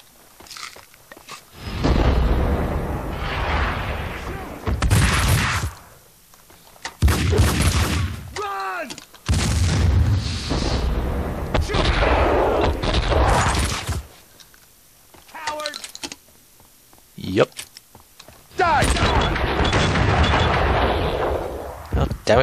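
Grenade blasts and shotgun fire in the video game Max Payne, on an apartment upper floor, heavy booming bursts in several loud clusters with short quiet gaps between, someone talking over parts of it.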